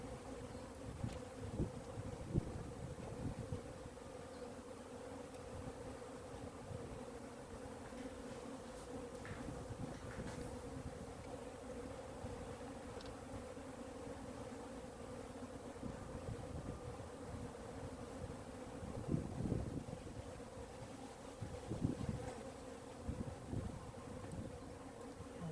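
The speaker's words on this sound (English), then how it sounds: "And I think these bees they are not really that defensive." Swarm of African honey bees buzzing steadily around an opened beehive, a dense continuous hum at moderate, even level throughout with no voices.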